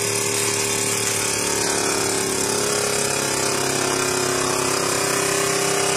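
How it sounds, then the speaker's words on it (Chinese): Household food vacuum sealer pumping air out of a bag, a loud, steady, unbroken mechanical hum with broadband motor noise throughout. "然后把这边右边的锁住， 它就开始自动抽气"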